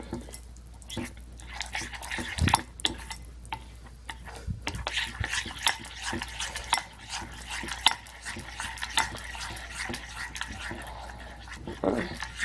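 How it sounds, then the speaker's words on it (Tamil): Mysore pak batter is mixed by hand in a bowl to a loose, dosa-batter consistency, with irregular soft scraping and clinking strokes at close range under a low steady hum. "நல்லா தோசை மாவு பதத்துக்கு நல்லா மிக்ஸ் பண்றீங்க."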